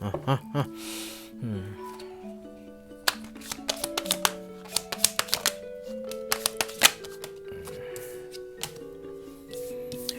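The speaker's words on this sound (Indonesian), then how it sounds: "aku akan shuffle sampai dapat 3 kartu" Tarot cards are shuffled by hand at close range, producing a run of crisp riffling snaps and soft slaps of card on card, with faint musical tones sustained underneath.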